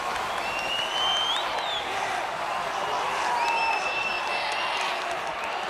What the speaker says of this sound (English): Make some noise, ladies and gentlemen.